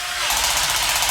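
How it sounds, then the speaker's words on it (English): An adjustable-torque screwdriver drives screws during a moon buggy wheel and tire build, starting with a brief sharp sound and then a steady, loud, buzzing mechanical whir close by. "It can't over torque when you have a screwdriver that allows you to set the torque."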